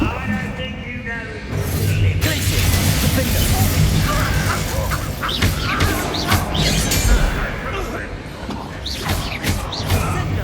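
An Expelliarmus disarming spell is cast in Hogwarts Legacy, giving a loud crash and mechanical clatter with whooshing bursts and creaks that roll on for several seconds, while a voice speaks over it.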